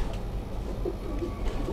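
Rooftop pigeons give soft, low cooing calls over a steady background rumble, several murmured coos running close by throughout.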